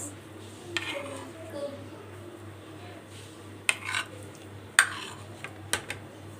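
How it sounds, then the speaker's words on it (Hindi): A spoon scrapes and clinks against a bowl while mixing mayonnaise, black pepper and salt into a boiled-egg sandwich filling, with soft scattered taps and a few sharper knocks over a quiet background hum. "और इसको हमने अच्छी तरह से मिक्स करना है।"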